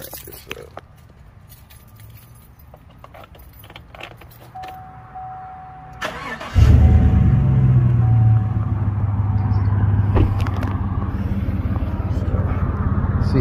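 A Chevrolet Impala SS engine cranks and catches, then settles into a loud, steady idle, preceded by keys jangling and quiet sounds inside the car.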